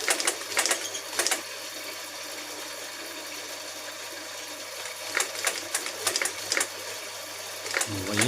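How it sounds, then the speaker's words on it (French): A sewing machine stitches piping for upholstery. Bursts of rapid, rattling mechanical stitching come at the start and again toward the end, with a quieter stretch between. "on arrive à coudre du passepoil"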